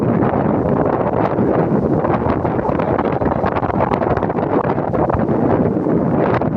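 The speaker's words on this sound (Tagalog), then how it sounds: "Sobrang lakas ng hangin eh." Strong wind at a paragliding site roars continuously and loudly, buffeting the microphone with a steady, rough rush of noise.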